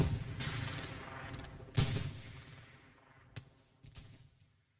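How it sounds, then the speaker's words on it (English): Grenades burst in Hell Let Loose at El Alamein, several sharp explosions and cracks at irregular intervals amid distant gunfire, fading toward the end. "Never mind, they grenaded. Grenades, I'm fucked."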